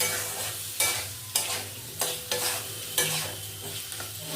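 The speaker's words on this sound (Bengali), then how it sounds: "আলুটা একটু ভাজা ভাজা না হওয়া পর্যন্ত আমি এটা" Potatoes with turmeric frying in a pan for a Bengali banana-flower dish, stirred with a utensil in repeated scraping strokes, each stroke bursting over a steady close sizzle of hot oil, about six strokes in a loose rhythm.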